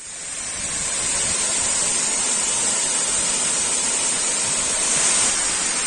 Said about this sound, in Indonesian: kita sudah sampai di air terjun Kahung